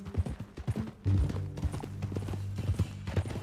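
Horse hooves clip-clopping in Red Dead Redemption 2, a steady rhythmic run of close, fairly loud hoofbeats with a faint mechanical creak underneath and no talk over it.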